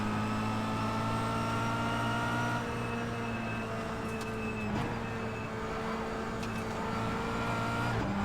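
Kia Cup race cars pulling away together from a standing start at Phillip Island, a dense, steady drone of several engines holding close and loud throughout, with faint gear-change dips and no talk.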